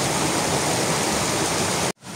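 Water gushes strongly from the ground like an underground river, making a dense, even roar up close that cuts off abruptly just before the end.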